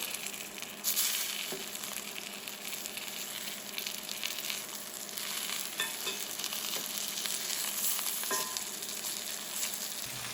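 Veal chops searing in a hot pan just after being flipped, a steady dense sizzle with faint crackles and pops throughout, fairly close and alone.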